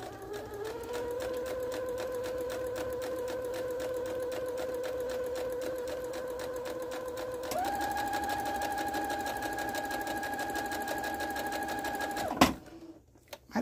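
A sewing machine stitching a seam, its motor whirring steadily and close for about twelve seconds, rising in pitch partway through, then stopping with a brief clunk.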